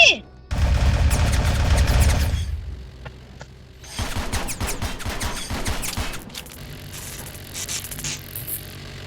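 Bursts of rapid gunfire in the Roblox game Military Tycoon crackle in loud volleys, with sharp single shots and static-like noise between them, close and intense.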